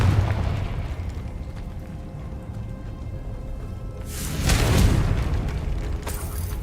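Confringo explosive spell cast in Hogwarts Legacy, a sudden loud blast swelling out of quiet ambient game sound midway, followed by a decaying rumble and a second fainter burst.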